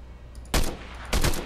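Two sharp gunshot bursts in the video game Fortnite, each a loud cluster of quick reports about half a second apart, over a quiet background.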